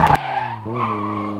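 A car drifting through a gymkhana course gives a sustained, close tire squeal with a wavering tonal whine over engine noise, following a brief burst of harsh noise at the start.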